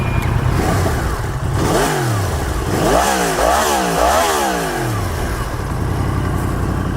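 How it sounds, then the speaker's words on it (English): A 2018 Yamaha MT-10 SP with a four-cylinder engine and Akrapovic exhaust revs hard close by. Several rising and falling throttle blips build to repeated sharp revs, then it settles back to a loud, steady idle. "That coupling, a Yamaha 4-cylinder and a Kropovic exhaust."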